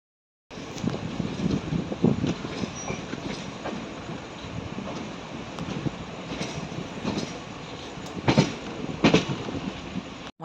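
A Thiruvananthapuram Superfast Express train rumbles steadily along the rails between Coimbatore and Thiruvananthapuram, with wind noise and a few sharp clanks and thumps near the end.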